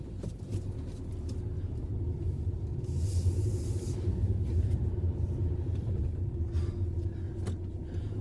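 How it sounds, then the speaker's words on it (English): A Fiat Panda Trekking with a 1.3 litre diesel engine drives along an open road, giving a steady low rumble of engine and road noise from inside the car, with no talk. "I'm driving a Fiat Panda Trekking, which is the top of the range Fiat Panda model."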